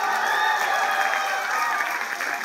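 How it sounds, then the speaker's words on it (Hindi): A theatre audience at the National School of Drama applauds after a performance, dense continuous clapping at close range that holds steady for a couple of seconds. "जोरदार तालियों से स्वागत।"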